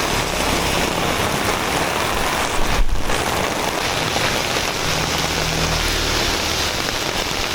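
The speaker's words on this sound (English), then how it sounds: "the moment I stepped out of my room, I was met with pouring rain" Heavy rain pours down steadily in Vietnam as a loud, unbroken hiss of drops hitting surfaces, dense and close throughout with a brief dip near the middle.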